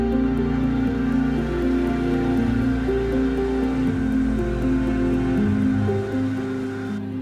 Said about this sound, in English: Blend on high until the curry is rich and smooth.